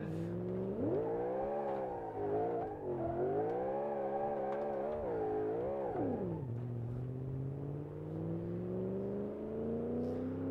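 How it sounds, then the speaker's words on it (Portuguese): A car in BeamNG.drive revs its engine in rising and falling waves, with a whining pitch that climbs and dips over several seconds, then drops and holds a lower, steadily rising tone, loud and close. "a turbina enche do nada, ó."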